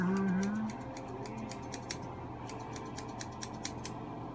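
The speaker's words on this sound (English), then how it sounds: "So that's me cleaning off my beard with scissors." Scissors snip repeatedly while trimming and cleaning up a beard, a series of close, sharp metallic cuts in an uneven rhythm after a brief louder start, with no talking.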